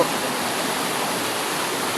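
River flowing in the Philippines, heard as a loud, dense, unbroken rush of water, steady throughout with no voices.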